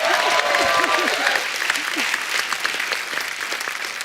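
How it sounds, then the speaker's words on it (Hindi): Studio audience applause on The Kapil Sharma Show, loud and continuous clapping over a fading musical sting, steady to the end. "एक बार जोरदार ताली हो जाए"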